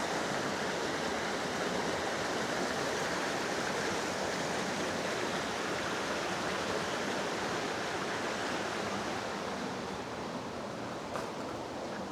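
A mountain stream flows through a deeply cut gorge in the Juráňová valley in Orava, Slovakia, a loud steady rushing wash of water that continues unbroken throughout, with no voices.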